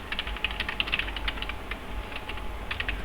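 Steady typing on a computer keyboard while entering a campaign name in a WhatsApp broadcasting tool, a quick run of light key clicks throughout, close and fairly clear with no talking.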